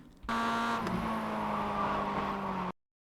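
A Mazda MX-5 engine at Oschersleben in iRacing holds a loud, steady near drone that starts abruptly, dips briefly as the brake comes on, then cuts off to silence.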